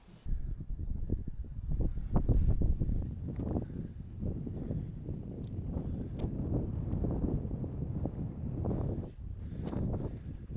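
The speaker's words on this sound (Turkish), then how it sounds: "Şu anda iyi bir rüzgar var." Low, rumbling wind buffeting the microphone steadily throughout, fairly loud with gusty swells.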